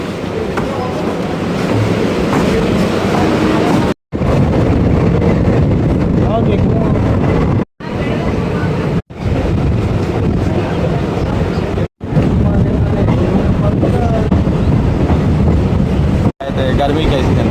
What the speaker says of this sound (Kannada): ನೋಡ್ರಿ ಟ್ರೈನ್ ಒಳಗೆ ಹೋಗೋಣ.